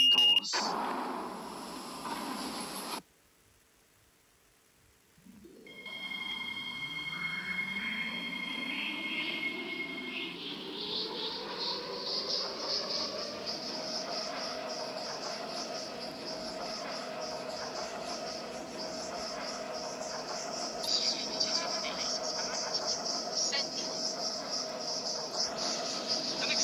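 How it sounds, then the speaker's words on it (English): A metro train in a Roblox game starts pulling away from the platform, its motor whine rising slowly in pitch into a steady drone after a chime and a short silence. "The train is about to depart."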